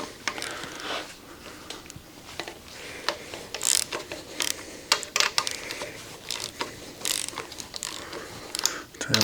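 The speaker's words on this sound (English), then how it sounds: "we might switch back to the ratchet a little bit faster" A ratchet wrench clicks in irregular bursts during the teardown of a 1983 K10 350 engine, with sharp rapid ratcheting interspersed with pauses and small metallic knocks.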